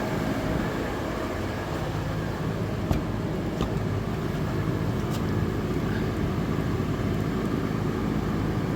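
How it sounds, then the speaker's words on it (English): A Rupes HLR15 cordless polisher that won't spin gives off a steady droning mechanical noise with a few faint clicks, constant and close throughout. "it won't spin over. Just making noise, not doing anything."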